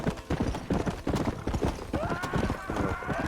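Horse hooves clip-clop in a steady trotting rhythm in the Red Dead Redemption video game, loud and close, with a whinny partway through.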